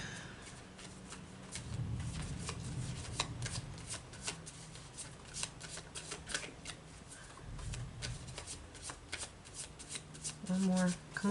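Marchetti Tarot Royale tarot cards riffle and shuffle in quick, repeated flicks close to the microphone while someone talks over them.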